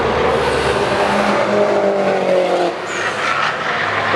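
A loud race car engine roars while tires squeal under hard braking at Istanbul Park circuit, the noise dipping briefly before the engine surges again.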